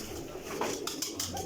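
Breeder pigeons at a championship breeding setup softly cooing, low murmuring calls close by, fairly quiet with some background rustle and no clear talk.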